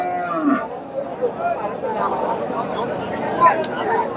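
A young native-breed cow at a busy village cattle market lows briefly amid crowd chatter and nearby voices, the animal's calls blending into the murmur of buyers and sellers.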